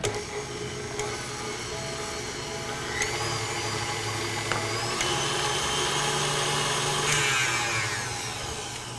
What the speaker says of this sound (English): we're adding it into our standing mixer with the whisk attachment. And we are going to crank this up.